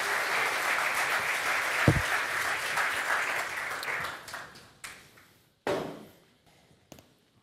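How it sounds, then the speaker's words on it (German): Studio audience applause at a German TV sports show, loud and sustained at first, then fading into a few scattered bursts of clapping. "Den Applaus gibt's."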